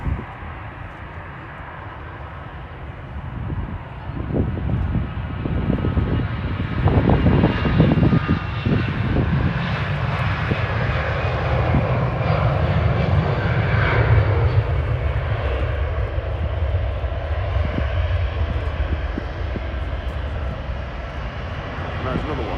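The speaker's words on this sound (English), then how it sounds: "following the Ryanair 737-8 out is the Airbus A320, the direct competitor in both airplane type and airline to Ryanair" An Airbus A320 airliner at Manchester Airport roars past with a loud, sustained engine rumble that builds and holds, while a voice talks over it.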